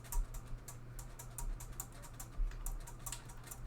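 Quiet, irregular keystrokes on a computer keyboard while code is typed, soft clicks in uneven bursts over a low steady hum with no talking.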